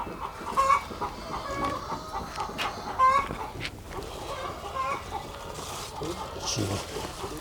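Hens cluck on and off nearby in short bursts, set against a busy farmyard background in Uganda with some faint voices.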